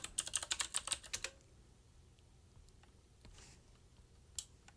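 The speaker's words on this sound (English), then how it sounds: "inside the terminal, I'll type in sudo apt install MongoDB" A command is typed on a computer keyboard: a quick burst of about a dozen keystrokes, then near quiet broken by a couple of isolated taps.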